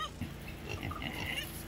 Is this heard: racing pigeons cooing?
no